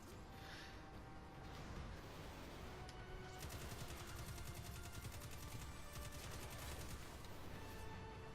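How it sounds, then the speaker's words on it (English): Sustained automatic gunfire in the video game Destiny 2, rapid dense bursts that run continuously throughout at steady moderate loudness, with no talking over the shots. "I'd prefer if you stop shooting at me"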